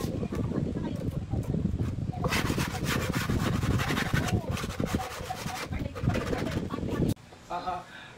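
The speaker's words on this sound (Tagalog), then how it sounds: "Saka ko niliha para makinis tingnan." Sandpaper is rubbed back and forth along the edge of a modular kitchen cabinet, a close, loud, rhythmic scratchy rasping of repeated strokes, with a voice talking over parts of it.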